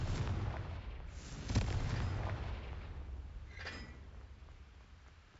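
Loud fiery blasts from the Confringo spell in the video game Hogwarts Legacy, one sharp burst standing out near the start and a fainter crackling burst following, over a steady low rumble.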